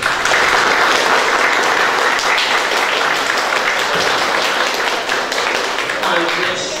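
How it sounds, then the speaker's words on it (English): A school congregation at a Year 8 Mass applauds in a full, dense wash of clapping that holds steady and loud for several seconds before easing slightly at the end. "They need a round of applause"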